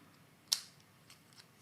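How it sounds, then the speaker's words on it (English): Scissors snip a flower stem during papercraft card making: one crisp, close, quiet cut followed by a couple of fainter soft clicks in an otherwise hushed room. "I don't need the stem, so I'm going to snip them off"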